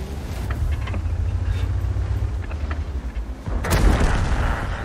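Tank cannon fire in World of Tanks, with a Jagdpanzer E 100 knocking out a KV-4. A rumbling engine bed carries scattered thumps, then one loud, close blast rings out near the end.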